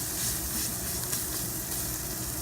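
Chicken and red quinoa with carrots sizzling in an Instant Pot on its sauté setting, a steady broadband frying hiss with no talk.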